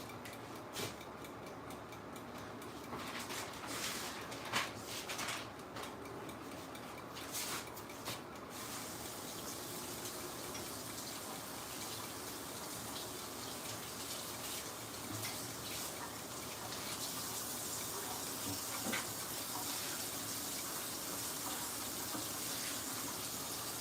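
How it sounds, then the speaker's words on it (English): Turkey bacon rinsed under a running kitchen tap, a steady continuous gush of water flowing without pause and without talk. "I like to wash off the sodium. So I'm gonna go over here and do that"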